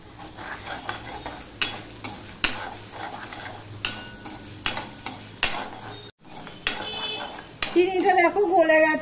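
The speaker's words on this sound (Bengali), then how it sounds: "এবার আমি অল্প চিনি দিয়ে দিচ্ছি তেলের মধ্যেই।" A little sugar goes into hot oil with ginger tempering for a vegetarian ridge gourd dish, bringing steady sizzling with repeated spoon scrapes and stirring against the pan, a brief cut, then louder bubbling, with a voice speaking over it.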